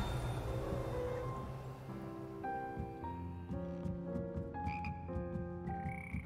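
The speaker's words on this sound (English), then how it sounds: "These are fucking frogs." Frogs in the video game Hogwarts Legacy croak in a chorus of pitched, tuneful notes that shift up and down like a simple melody, fairly quiet and with no voices over them.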